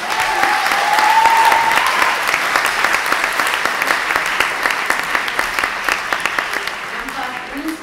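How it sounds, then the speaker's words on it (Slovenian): Audience applause at a student cultural evening, a steady crowd clapping close by for the full span, with a host's voice speaking briefly over it near the start. "Še en aplavz za naš."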